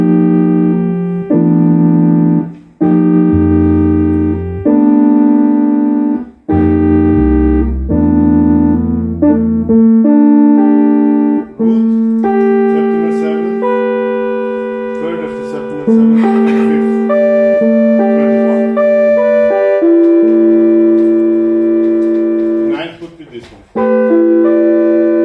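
Chords change in 31-EDO microtonal tuning as a chain of loud, close sustained harmonies. Each chord holds for a moment before shifting to the next over about twenty-five seconds, with no talking.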